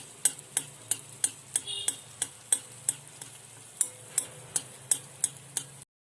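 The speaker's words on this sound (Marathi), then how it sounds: "आता आपले अनारसे तळून झालेले आहे." Anarsa sweets deep-frying in oil produce a soft, constant sizzle, punctuated by evenly spaced, crisp metal taps of a utensil against the pan, repeating about three times a second.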